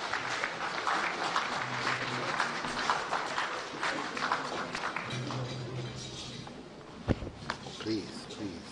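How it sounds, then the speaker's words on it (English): A large audience at a formal gathering in Ghana breaks into applause to welcome the President, sustained clapping that swells and fades over several seconds, with voices and a sharp knock near the end. "Let's welcome him with a round of applause."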